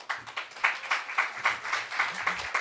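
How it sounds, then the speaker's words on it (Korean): Congregation in a church clapping together to welcome a preacher, a steady round of hand claps with a slightly uneven beat, fairly close and alone, with no voices over it. "서실 때 우리 격려의 박수로 전도사님 환영합니다 하면서"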